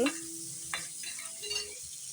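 Ginger sautéing in a hot pan at home, a soft steady sizzle with a few brief stirring scrapes, close and fairly quiet, no voices.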